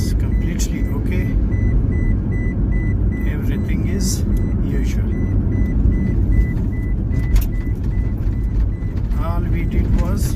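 A Toyota Prius hybrid car driving on a road, with a steady low road and engine rumble throughout, light rattles and a few brief chirps above it, and a voice speaking briefly over the drive.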